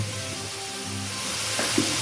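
Potatoes fry in plenty of oil in a kadai, giving a steady close sizzle with a couple of brief utensil touches toward the end.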